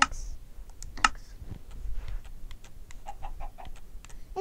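A Minecraft chicken gives a few short clucks amid clicking keyboard taps, faint and intermittent, with no voices.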